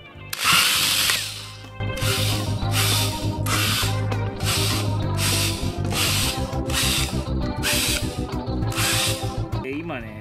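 A power drill with a 6.5 mm bit whirs in repeated bursts as it bores through material, the motor rising and easing in a steady rhythm, with a voice speaking at times.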